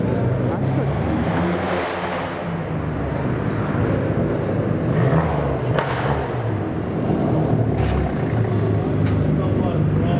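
Loud, roaring sports car engines rumble continuously, with cars including a Ferrari 488 Pista passing close by in a steady convoy on London streets, their tones rising and falling as they go.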